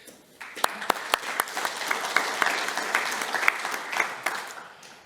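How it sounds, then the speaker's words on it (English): Audience applause for a presenter taking the stage at a tech talk on AI network capabilities: sharp claps start the burst, then it swells into steady room-wide clapping, fading slightly near the end. "Please, round of applause for Clay."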